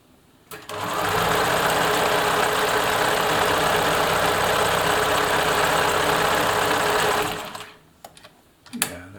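A Bernina Nova 900 electronic sewing machine runs a satin stitch in one long, steady, loud whirring buzz lasting about seven seconds. It stops abruptly, followed by a few small clicks and handling noises.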